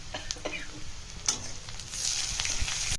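Capsicum, onion and tomato sizzle and fry in oil in a pan, a steady close crackle with light stirring scrapes and ticks, growing a little louder toward the end.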